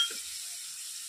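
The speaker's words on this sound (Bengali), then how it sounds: "এবার সর্ষে আর পোস্ত বাটাটা দিয়ে মশলাটা ভেজে নেবো ভালো করে।" A mustard and poppy seed paste masala fries in oil, a soft, steady hiss of sizzling with a faint stirring scrape at the start, close and unbroken for about a second.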